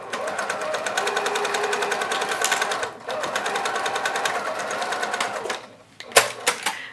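A sewing machine back stitches a tote bag seam, a steady rapid mechanical chatter running for several seconds, briefly pausing, then stopping with a few separate clunks at the end, close and loud.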